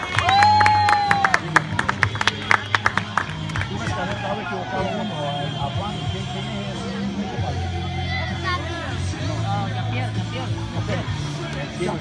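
Applause and crowd noise at a youth U13 football award ceremony, with scattered sharp claps early on over a steady hum of chatter, a voice speaking over it, and low background music running throughout.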